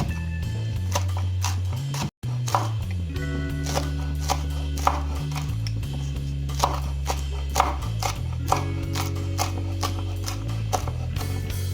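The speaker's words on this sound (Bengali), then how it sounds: "ছোট ছোট ছোট ছোট করে কাটতে হবে।" Banana flower being chopped into small pieces for a Bengali-style curry, steady knife taps on a board at an even pace, heard under a constant background music tone.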